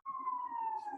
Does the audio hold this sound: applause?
no